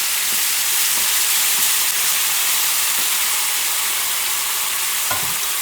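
Ground tomatoes hiss loudly in a pan with braised pork chops, a steady close sizzle with a few faint spoon knocks, and no talking.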